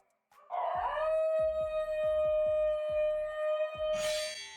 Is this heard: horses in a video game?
no